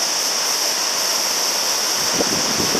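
Ocean surf at a sand spit gives a steady, loud, close roar of rushing water with wind buffeting the microphone and no voices.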